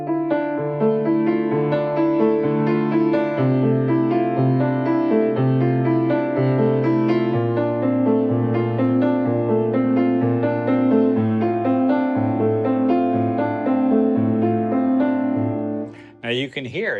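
A piano plays an interlocking-hands polyrhythmic pattern built from five or six notes of a scale, loud and sustained, with continuous layered chords churning steadily before stopping abruptly.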